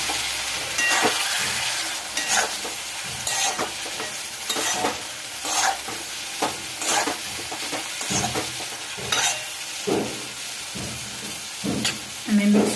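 Egg masala with coriander and green garlic is stirred and fried on a tawa, a steady close sizzle broken by repeated scraping strokes of a spatula against the pan.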